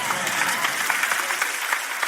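Applause from a church congregation during a sermon, a dense, steady wash of many hands clapping at close range, loud and continuous without speech over it.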